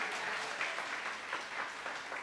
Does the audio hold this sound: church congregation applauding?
yes